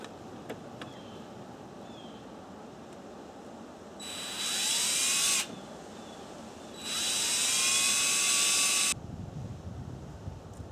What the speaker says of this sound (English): So I'm just going to drill, this is 3/32 of an inch.